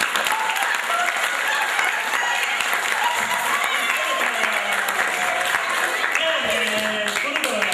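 Audience at a children's earthquake-safety show breaking into loud, sustained applause, dense clapping close and continuous throughout with voices mixed in under it.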